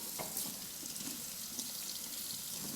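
Tap water runs steadily into a sink while a Rolex watch is rinsed under it, a soft continuous splashing hiss at close range.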